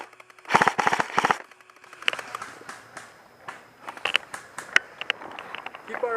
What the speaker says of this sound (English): Keep fire, Owen.